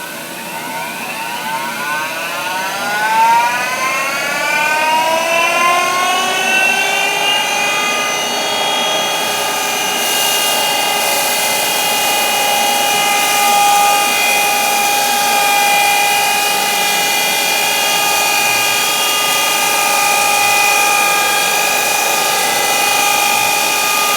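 A surface grinder works a steel setup block in a machine shop, giving a steady whining hum with a rising tonal sweep early on, then a constant even whir throughout.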